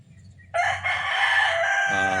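A backyard rooster crows once, close and loud, its long tonal call rising sharply and holding before tailing off, with faint low clucking and murmuring beforehand.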